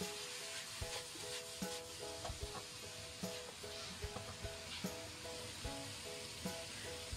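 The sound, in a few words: stir-frying all the ingredients in a wok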